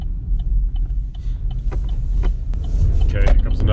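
A car drives along a road, giving a steady low road and engine rumble close by, with some brief voice sounds over it.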